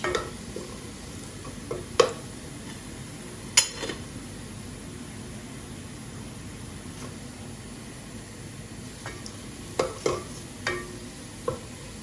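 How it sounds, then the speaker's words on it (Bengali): Lentil dal being tempered in hot oil Bangladeshi style, a low steady sizzle with a few sharp utensil clinks against the pot, close and fairly quiet with no talking. "আজকে বাংলাদেশি স্টাইলে ডাইল বাগার দিছি"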